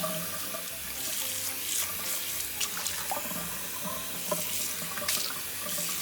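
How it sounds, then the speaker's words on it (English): Water pours from a newly installed Moen kitchen faucet into the sink in a steady, close, continuous hiss and splash, with no voices over it. "let me turn on the water"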